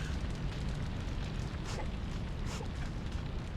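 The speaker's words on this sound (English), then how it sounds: "it's on fire" In the video game Shadow of Destiny, a fire burns with a dense, steady roar and faint crackling throughout.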